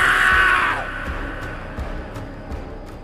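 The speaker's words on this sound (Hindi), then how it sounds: "संजय की चीख पूरे बंगले में गूंज गई।" A loud scream rings out in a haunted bungalow in a horror story, lasting under a second before fading into a low, dark ambient drone with soft rhythmic thuds.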